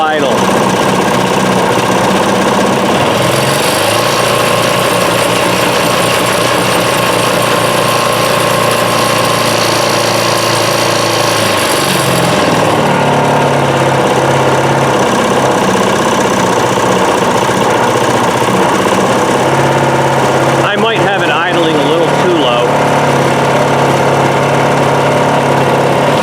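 A DR Powerwagon dump cart's small engine runs loud and close, held at full throttle with a steady buzzing roar, then drops back to a lower, rougher idle with a brief clatter.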